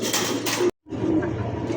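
A pigeon coos in a low, throaty murmur close by, the call broken by a short silent gap before resuming.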